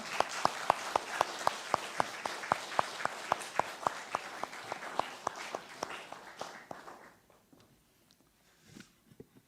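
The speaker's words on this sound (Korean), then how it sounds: "우리 목사님 나오실 때 큰 환영의 박수로 맞이하도록 하겠습니다" A church congregation applauds to welcome the pastor at a special evening service, with a strong, rhythmic unison clapping that beats steadily, then thins and fades out into near quiet.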